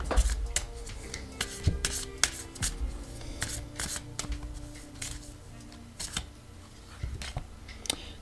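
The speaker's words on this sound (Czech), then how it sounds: "No, vytáhneme si tady ještě jinou kartu." Tarot cards are shuffled and drawn at close range, giving soft rubbing, flicking and slapping sounds in an irregular rhythm, quiet and with no talk.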